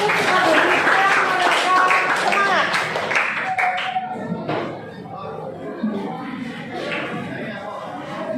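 Classroom applause for the turmeric group: a dense patter of many hands that swells loud at first, then thins into scattered claps mixed with voices and chatter.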